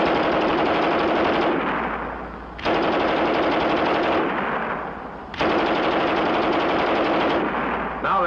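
A WWII German MG 34 machine gun fires in three long, very rapid bursts, each a loud continuous rattle with short pauses between them.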